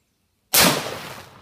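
A World War One era Springfield experimental flaming bayonet device fires once: silence, then a single loud, close bang with a hissing whoosh that trails off over about a second.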